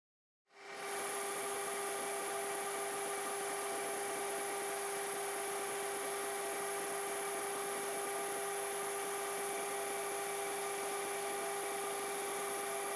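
A metal lathe turns a pipe-centre register 72 mm across and 17 mm deep to fit snugly in a hub, starting up and then running as a steady, loud, close whine with strong sustained tones, no speech.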